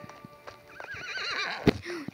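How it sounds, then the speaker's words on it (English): A horse neighs with a rising and falling whinny, with a few soft hoof clip-clops around it, heard close and fairly clear, plus a sharp knock near the end. "Is that a horse?"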